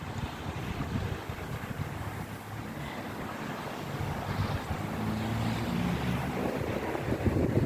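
Waves washing onto Tate Hill Beach at Whitby on the North Sea, a broad rushing surf wash mixed with heavy wind buffeting the microphone, steady and building slightly, with no talk.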